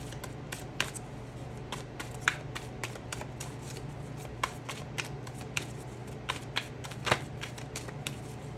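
Tarot cards shuffled by hand in a steady run of crisp, close riffling snaps and flicks over a low background hum, with no talking.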